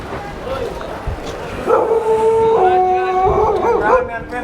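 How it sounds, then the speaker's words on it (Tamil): A dog in Mogadishu, Somalia, gives a drawn-out series of howling, whimpering barks and yips, fairly close and loud, over a noisy outdoor background. "இப்போ சோமாலியாவோட நாய்"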